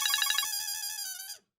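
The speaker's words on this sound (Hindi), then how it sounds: "लो, उसी का फोन आ गया।" A telephone rings with an incoming call, a clear electronic ringtone of rapid repeated trills that settles into a steady tone before cutting off abruptly, loud and close, with no talking over it.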